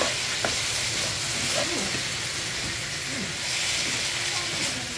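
Corned beef sautéing in a pan, a steady close sizzle and hiss running throughout with occasional stirring scrapes.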